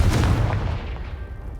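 A Confringo blasting spell in the Hogwarts Legacy video game explodes with one loud, close boom that decays over about a second and a half, with no voices.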